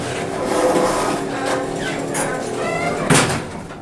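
Montgomery traction elevator doors sliding open and shut in a hotel tower, a steady rumbling glide with a firm thud near the end, close and fairly loud.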